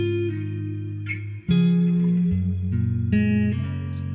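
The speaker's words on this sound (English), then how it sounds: "I'm going to throw a pitch shifter onto the master of these now" A sustained synth loop of layered, pitch-shifted tones that shift between chords, washed in reverb, with a short dip before swelling back in.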